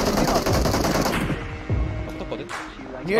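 Rapid automatic gunfire from PUBG Mobile rattles loud and close in sustained bursts. The shots thin out into a few scattered reports, with a commentator's voice faintly underneath.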